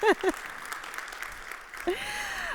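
Applause from an audience at a school's annual address, a soft, fairly distant patter of clapping running beneath a speaker's voice and brief laughter.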